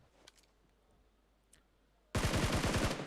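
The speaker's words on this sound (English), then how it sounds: "Shots being fired by Arcelin out there" Rapid automatic gunfire in the Battlegrounds Mobile India video game erupts suddenly after a quiet stretch with faint clicks, a loud, close burst of repeated shots lasting about a second.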